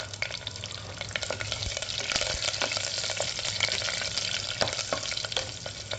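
Sliced green chilies frying in a pan for ghee rice give a steady, close sizzle with scattered crackles and stirring scrapes throughout, and no one speaks.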